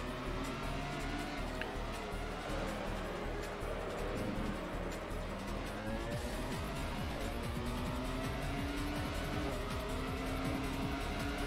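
A Formula One-style race car in Grand Prix Challenge on PS2 screams at high revs, its engine pitch rising and falling through gear changes with brief tire squeal, held constant and close throughout.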